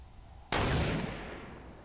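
A single loud gunshot in Fortnite bursts out suddenly after a quiet start, then trails off in a long, broad echoing decay.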